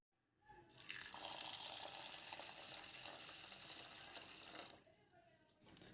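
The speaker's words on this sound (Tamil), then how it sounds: "இப்போ இதை நம்ம ஒரு 2 தண்ணி ஊற்றி நல்லா சுத்தம் பண்ணி எடுத்துக்கலாம்" Red poha (flattened rice) being washed in water, a steady broad rush of running and splashing water that starts after half a second and stops near the five-second mark, with no talk.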